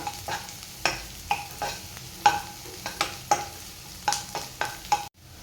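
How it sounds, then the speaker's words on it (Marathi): Onion and coriander being stirred in a hot pan for bombil fried rice, with a regular series of spatula scrapes and knocks over a soft sizzle, ending abruptly. "कांदा थोडासा परतून झाला की त्यामध्ये घालायचं थोडी कोथिंबीर घालायची आणि ते सुद्धा छान कांद्यासोबत परतून घ्यायचं."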